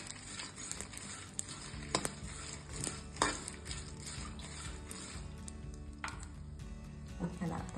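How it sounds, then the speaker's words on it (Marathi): Pumpkin seed and wheat chutney mixture with curry leaves being stirred and roasted in a pan, with scraping spoon-on-metal clatters and soft sizzling throughout, a few sharper knocks standing out. "हे मिश्रण साधारण अजून 1 मिनिट मी परतून घेतली"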